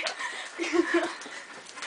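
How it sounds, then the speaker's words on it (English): A dog in the Wii Fit video game whimpers and yips softly in short bursts, with faint background noise and no clear talking. "That was a dog. It is a dog."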